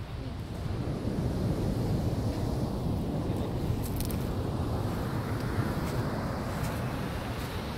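Ocean surf rumbles continuously with wind buffeting the microphone, a broad low wash of waves on the shore.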